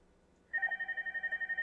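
A softphone call rings in a steady electronic trill that starts abruptly after a brief silence and pulses rapidly and evenly, clear and close with no talk.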